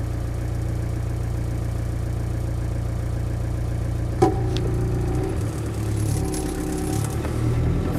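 An ex-military Land Rover 90 with a 200tdi diesel engine and no soundproofing idles steadily up close, a continuous low rattling drone with one brief knock partway through.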